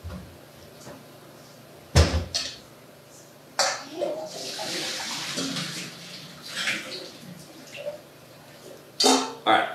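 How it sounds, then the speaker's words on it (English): Cooked pasta is drained in a kitchen, with a splashing gush of water into the sink, clanks of the pot and colander, and bursts of running water in irregular spurts. "I drained my pasta"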